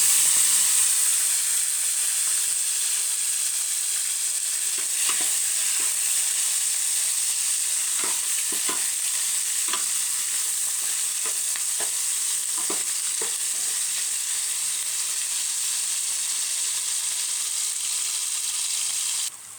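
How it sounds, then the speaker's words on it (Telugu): Chopped tomatoes and onions fry in a pan with a steady, close sizzling hiss throughout, broken by occasional soft clicks and stirring scrapes, with no talking. "టమాటాలు వేగినాయి"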